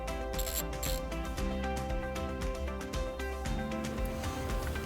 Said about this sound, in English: now we're gonna remove this nut with a 12mm socket